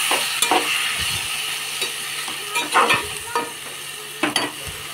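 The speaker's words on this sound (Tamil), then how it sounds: "தக்காளி போட்டு நல்லா கிண்டி விட்டுக்குங்க." Tomatoes stir-fried in a pan for prawn gravy: a steady sizzle broken by several sharp scrapes and clatters of a ladle stirring, close and fairly loud.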